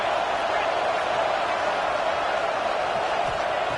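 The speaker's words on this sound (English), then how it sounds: "It's early, but this crowd is fired up. Listen to this noise here." A stadium crowd roaring at a Texas vs Alabama football game, a loud, steady wash of cheering noise with no breaks.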